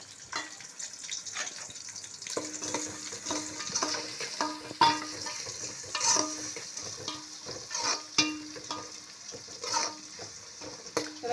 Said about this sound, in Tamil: வெங்காயம் நல்லா திவங்கட்டும்